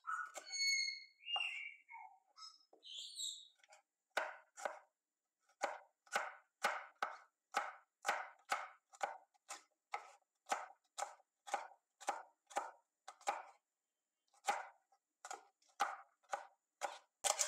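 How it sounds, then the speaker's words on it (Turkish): Kapya red pepper is chopped finely with a knife on a board for a green lentil salad: a few soft squeaks open, then a steady run of crisp, evenly spaced chops, quiet and close. "Kapya biberimizi de yine aynı şekilde ince ince doğruyoruz."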